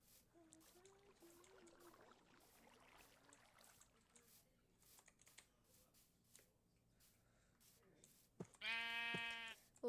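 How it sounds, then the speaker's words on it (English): Sheep bleating in Minecraft, a single loud harmonic bleat close by near the end, after quiet game ambience with keyboard clicks and faint background sounds. "You're a lucky sheep."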